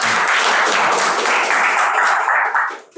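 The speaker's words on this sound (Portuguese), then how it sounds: "Palmas para Odete, gente" Lively applause from a church group gathering, a dense burst of many hands clapping for roughly three seconds that tapers off at the end.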